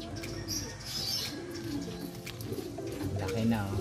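Domestic McArthur pigeons coo close by, their low throaty calls mixed with soft rustling and a few chirps, with someone talking over them.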